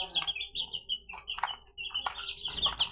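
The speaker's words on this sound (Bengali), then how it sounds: "মুরগিগুলা মাছের কাঁটা খাচ্ছে।" Chickens eating fish bones in a corner of a house give out a run of short, high chirping peeps, close by and fairly steady, with no clucking clearly standing out.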